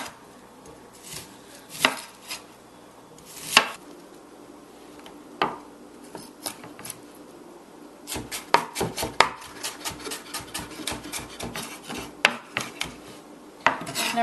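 An onion is chopped with a knife, a steady run of crisp, close knife strikes on the board, sparse at first and then quick and rhythmic, with no talk.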